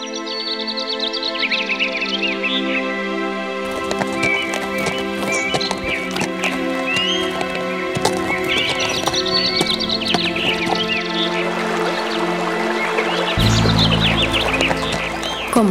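Horse hooves clip-clopping as a sound effect in a children's story, steady hoofbeats over background music with bird chirps and a splash-like pour sound toward the end.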